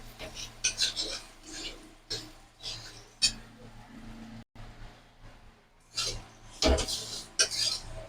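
A spatula scrapes and knocks against a pan while fried potato and pointed gourd are mixed with spices, producing irregular metallic clinks and stirring rustles beneath a person talking.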